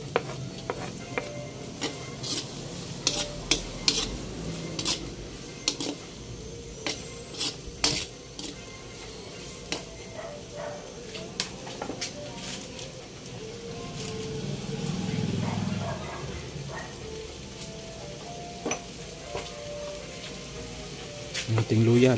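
Garlic sautés in a pan for squid adobo (adobong pusit): a low sizzle runs underneath while a utensil scrapes and clicks against the pan in irregular, sharp taps, with a brief louder frying surge midway.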